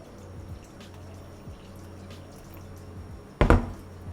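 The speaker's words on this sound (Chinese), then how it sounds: "倒水" Water poured into pancake batter for old-style Chinese chive pancakes: a short, close splash near the end, after a quiet stretch of faint kitchen background.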